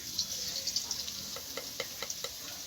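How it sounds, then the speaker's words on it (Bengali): Eggplant and potato sizzling in a pan, a soft steady frying hiss broken by light crackles and spits, close and fairly quiet with no voices. "ভালো করে ভেজে নেব"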